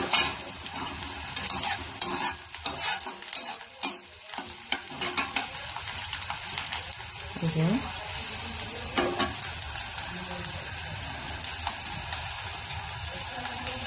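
Onions fry in oil in a home kitchen pan with a soft, steady sizzle, broken by scraping and stirring clatter and a few louder knocks.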